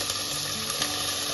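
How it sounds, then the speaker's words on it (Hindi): Chopped onion fries in hot oil with cumin seeds and asafoetida, a steady close sizzle with fine crackling and no voices. "और इसे हम गोल्डन होने तक फ्राई करेंगे।"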